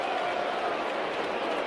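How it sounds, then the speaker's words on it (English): A stadium crowd at a Detroit Tigers versus Chicago Cubs baseball game reacts after a batter is hit in the leg by a pitch, a steady, dense roar of many voices that stays at an even level throughout. "The crowd is reacting"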